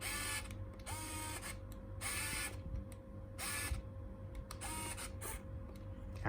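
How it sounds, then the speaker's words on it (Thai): A quiet electronic hum runs steadily while an Olympus IZM330 film camera's shutter mechanism whirs and clicks in several short bursts after its self-timer, close by, with no voices. "ไฟ จะกระพริบก่อนจะลั่นชัตเตอร์แบบนี้นะครับผม"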